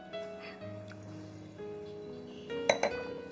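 Glasses clink in a celebratory toast at a dinner table, a couple of bright clinks near the end following soft tonal background music, with voices faintly present.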